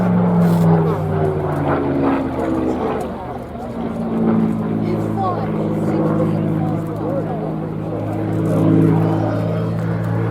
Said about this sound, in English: here is the Spitfire PR-11 in from the right